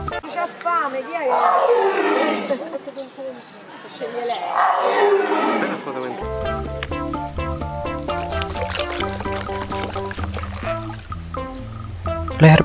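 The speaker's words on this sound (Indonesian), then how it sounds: "Mantap, ada harimau." A toy tiger figure lets out two long, loud growling roars close by, with a short gap between them, then a tinkling electronic melody takes over and plays steadily.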